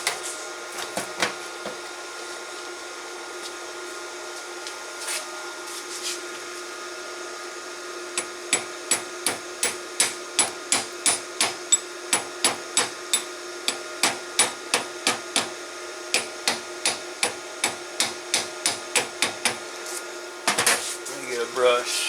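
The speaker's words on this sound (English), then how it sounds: "we'll knock the slag off and see what it does" A slag hammer chips slag off a fresh flux core weld made with a Bestarc 145 welder, about two dozen rapid, evenly spaced metallic knocks over a steady background hum, with brief louder scraping near the end.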